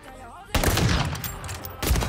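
Sniper rifle fire in Call of Duty Search & Destroy, with two sharp loud blasts, the first about midway and the second near the end, each followed by a ringing tail, over a steady game background.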